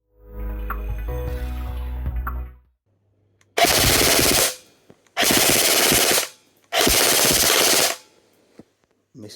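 A KWA EVE 4 airsoft rifle fires three loud, rapid full-auto bursts of about a second each, separated by brief pauses, after an opening stretch of low rumbling mechanical noise.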